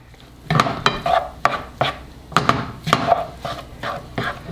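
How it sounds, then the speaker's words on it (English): A utensil repeatedly scraping and knocking against a pan while stirring taco meat, uneven strokes with clinks, close up and with no talking. "Mix it all up, guys."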